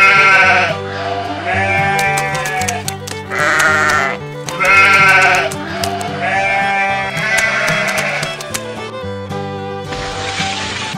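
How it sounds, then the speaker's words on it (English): Sheep bleating over a musical backing track. Several drawn-out, wavering bleats come one after another, loud and close, with steady music underneath. "Here are the sheep."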